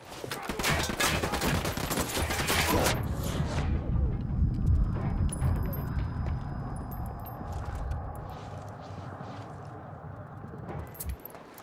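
Heavy gunfire rattles through a firefight in the Ghost Recon Wildlands beta, a dense loud burst of overlapping shots in the first few seconds, then scattered single cracks and short bursts over a rumbling battle backdrop.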